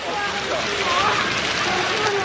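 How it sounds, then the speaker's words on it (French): Light rain starts to fall outdoors at Hakone Yunessun in Japan, a steady even patter and hiss that fills the whole moment with no clear voices over it. "Il commence à pleuvoir un petit peu."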